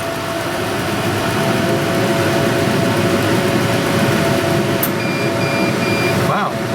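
The TangerineTiger20 laser engraver runs a 20 kHz 3D grayscale engraving test, giving a loud, steady, even machine hum with a faint thin tone that continues unbroken throughout.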